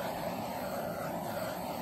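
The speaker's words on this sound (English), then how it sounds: "I'm going to give it a torch." Steady, close roar of a handheld torch flame played over a wet acrylic pour painting on a small 6x6 inch canvas, a constant broadband hiss with no breaks and no talking.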